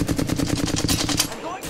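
Rapid automatic gunfire in Apex Legends, a tight burst of loud, evenly spaced shots aimed at the player, close and continuous for nearly two seconds.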